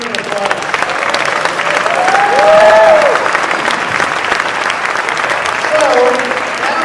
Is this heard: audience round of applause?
yes